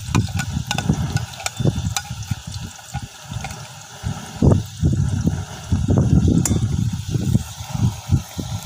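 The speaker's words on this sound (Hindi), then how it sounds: "प्याज़ों को हम अब अच्छी तरह से भूनेंगे।" Onions fry and are stirred in a pan for chicken karahi, giving a continuous close sizzle broken by repeated scraping and sloshing movements of the spoon throughout, with a voice talking faintly at points.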